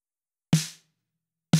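Snare drum from a Logic Pro X kit with top and bottom mics blended, struck twice about a second apart, each a punchy crack with bright rattle and quick decay in otherwise silence.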